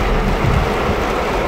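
Steady rain during a storm, a dense continuous hiss of falling water with low rumbling underneath, loud and close throughout with no talk.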